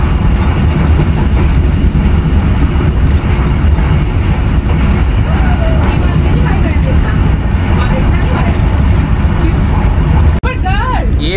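The Jaffer Express between Gujranwala and Lahore in Pakistan rumbles loudly and continuously, heard from inside an AC sleeper coach, with steady rail noise and people talking and children's voices over it.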